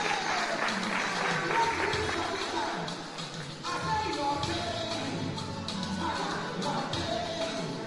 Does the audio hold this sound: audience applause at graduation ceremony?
yes